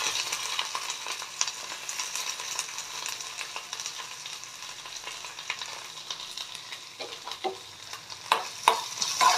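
Onions and curry leaves sizzle in a pan for an egg roast. The frying hiss stays steady, with occasional scraping and stirring clicks that get louder near the end.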